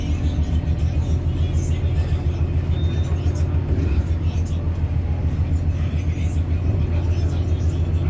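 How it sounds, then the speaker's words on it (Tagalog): Heavy road traffic in a long jam packed with cars, a steady low engine rumble and drone running continuously throughout, with no break or distinct passing vehicle. "Grabe oh, hanggang doon sa dulo puno ng sasakyan."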